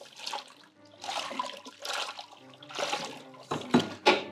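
Grain and ale malt are stirred into a potato vodka mash, giving wet sloshing swirls that rise and fall in repeated surges. The stirring ends with a couple of sharper splashy strokes, and nobody talks.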